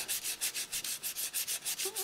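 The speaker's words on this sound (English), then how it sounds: "given that this is a water-based acrylic primer, you know, wet sanding may or may not be a good idea" Wet sanding over a water-based acrylic primer produces quick, even back-and-forth rubbing strokes, about five per second, close and alone.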